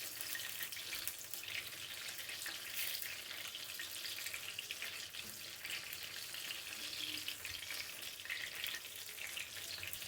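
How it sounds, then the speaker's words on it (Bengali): Chicken fingers deep frying in oil give off a continuous crackling sizzle, faint and steady throughout, close up with no talk. "এরকম করে চিকেন নিয়ে ঝটপট এরকম করেও ভাজা দিতে পারবেন"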